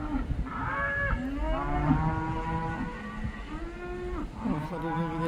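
Several cattle moo repeatedly on a windy farm while waiting to be fed, long drawn-out lowing calls overlapping one after another at moderate distance.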